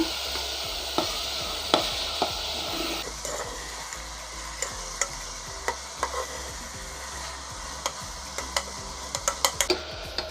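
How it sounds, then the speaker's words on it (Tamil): Cut potato pieces frying together in an oiled pan, a continuous close sizzle punctuated by repeated sharp clicks and taps of a spatula against the pan, irregular stirring knocks, no talking. "இப்போ இது ரெண்டையும் நல்லா ஃப்ரை பண்ணிக்கோங்க."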